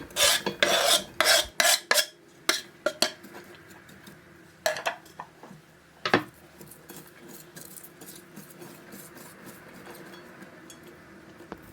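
Dry borlotti beans rattle and clatter into a metal pot in several quick bursts, then scattered clinks settle into a quieter rustle.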